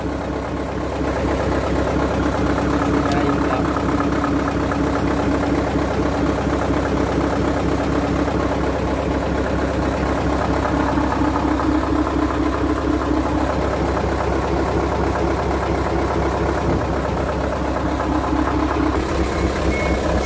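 A dump truck's 8BC11 engine, in as-is condition and needing a tune-up, runs steadily at idle with a continuous low rumble and clatter close by, no talk over it.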